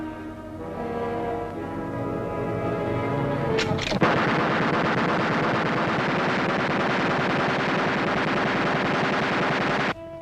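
A runaway aircraft machine gun aboard a 1943 bomber fires a loud, continuous rapid burst for about six seconds over engine drone, then cuts off abruptly.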